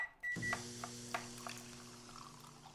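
Beep from serving a matcha mango latte in the video game Coffee Talk Tokyo: a short electronic tone followed by soft pouring and chime-like taps, faint and isolated.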